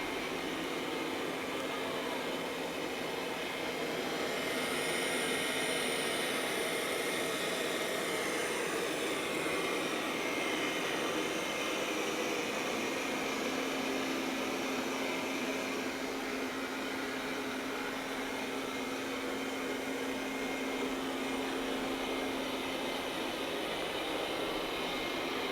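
A HONITURE Q6 robot vacuum cleaner runs continuously, a steady motor whir with broadband suction noise and a faint tonal hum as it picks up polyester packaging debris, close and unbroken with no talk.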